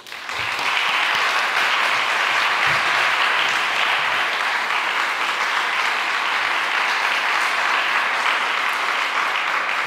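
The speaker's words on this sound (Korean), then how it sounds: "박수 한번 보내도록 하겠습니다." A church congregation at a Sunday service in Rome gives warm, sustained applause to welcome a visiting pastor, a dense wash of many hands clapping loudly and evenly for about ten seconds with no voices over it.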